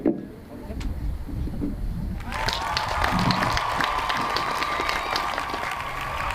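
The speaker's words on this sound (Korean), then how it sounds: "여러분 단상으로 모실 때 큰 박수 부탁드리겠습니다" Crowd at an outdoor rally protesting the national medical situation breaks into applause partway through, a steady dense clapping that builds after a quieter opening with murmuring voices and background noise.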